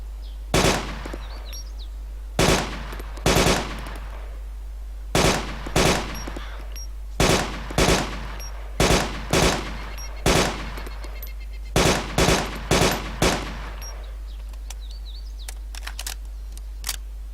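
Gunfire from the video game DayZ as a bandit is shot: loud, close rifle shots fired singly and in quick pairs and clusters, spaced through a steady low background hum.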